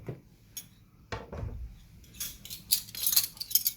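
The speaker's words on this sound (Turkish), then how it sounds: "Bıçakla bir kesik atacağız fazla dibine inmeden çünkü alttan dağılmasını istemeyiz." Knife slicing into soft oven-baked eggplants for a Turkish İmam Bayıldı olive-oil dish, heard as a few light scraping cuts and small clinks against a tray, close and moderately quiet with no talking.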